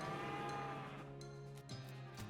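Cows mooing in the video game West of Loathing, with one long, low, drawn-out moo followed by a few shorter calls. The calls are clear and close, with no talking over them.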